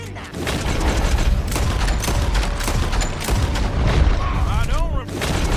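Dense gunfire from Red Dead Redemption 2, a fusillade of shots and booming blasts rolling continuously and loudly throughout, with game character voices speaking over the shooting.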